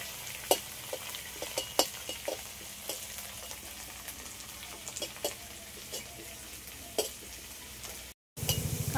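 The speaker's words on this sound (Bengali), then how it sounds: "কারি পাতাটা একটু হালকা করে ভাজা হয়ে গেছে।" Chopped curry leaves sizzle gently in a wok while a spatula stirs them, giving scattered clicks and scrapes over a constant frying hiss, with a brief dropout near the end.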